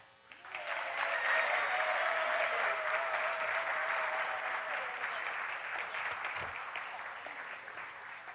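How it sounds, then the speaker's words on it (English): A primary school graduation audience breaks into applause, a quick swell into sustained, dense clapping from many people, with faint voices and cheers mixed in as it slowly tapers. "a round of applause again"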